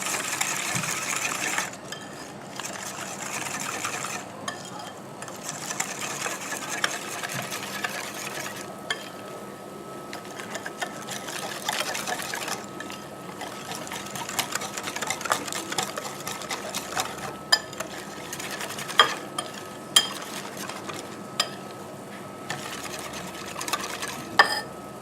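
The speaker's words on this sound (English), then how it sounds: "I'm just going to whisk it away." A whisk beats milk into banana and oatmeal pancake batter in a bowl, a steady close wet rhythmic stirring that runs throughout with small clinks against the bowl.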